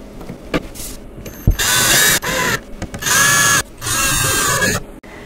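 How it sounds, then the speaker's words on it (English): A power drill driving screws into doll-furniture parts whirs in three bursts of a few seconds each, separated by short pauses with light clicks and handling noises. "I am going to be using a drill just to make this go a little bit faster"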